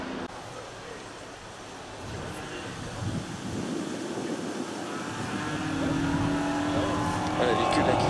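A Porsche RS race car at a motorsport gathering drives past, its engine note swelling and growing louder toward the end over steady broadband road and crowd noise, with voices in the background.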